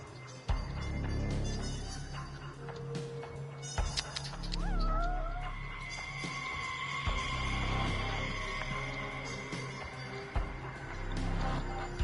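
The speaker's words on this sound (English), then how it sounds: "What's that goddamn cat?" Cat meowing in the video game Judgment: a couple of short plaintive meows rise amid in-game ambience, thumps and low rumbling, with other game sounds scattered around them.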